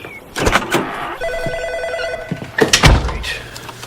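A home telephone rings in short electronic bursts lasting about a second, partly masked by nearby car and door noises and brief shuffling.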